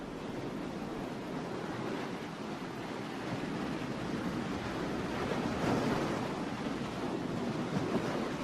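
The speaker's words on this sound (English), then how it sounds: "crashing waves form a ragged shoreline, pocked with rocky tide pools" Waves crash steadily against a rocky northwest coast shoreline with tide pools, a loud, continuous roar of surf and wind rushing without pause.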